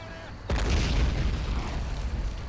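A loud explosion in the video game Men of War: Assault Squad 2 bursts in suddenly after a quiet moment and leaves a long, rumbling roar that hangs on to the end.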